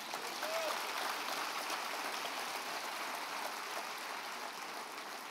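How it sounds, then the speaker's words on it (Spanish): A church congregation applauds during a Sunday service, a dense, even patter of many hands sustained for several seconds, moderately distant and fairly quiet, with faint voices mixed in. "Dele un aplauso al Rey bendito."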